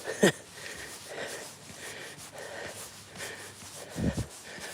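Someone with a cold sniffles outdoors during a Christmas Day walk on a cold, windy day: one sharp sniff near the start and another near the end, close, over a soft breezy background.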